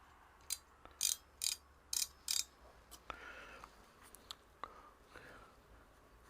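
A micrometer measures a rear brake disc with a quick run of five or six faint ratcheting clicks from the thimble, then quieter handling noises and a couple of light taps.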